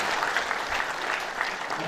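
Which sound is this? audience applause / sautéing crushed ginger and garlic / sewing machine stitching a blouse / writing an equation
audience applause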